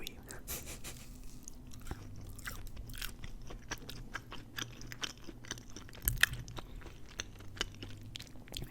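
Close, quiet chewing of a thick, chewy Panera sandwich and mac and cheese, with soft wet mouth sounds, small crunches and bites repeating irregularly throughout.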